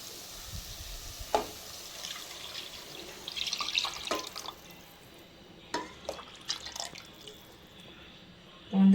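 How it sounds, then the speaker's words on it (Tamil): Tamarind extract is poured into a pan of frying fish curry ingredients, a liquid splash and trickle over soft sizzling, with drips and small clatters that settle into a quieter simmer. "நம்ம எடுத்து வச்ச புளிக்கரைசலை ஊற்றிடுவோம்."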